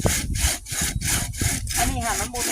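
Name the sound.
hand saw cutting wood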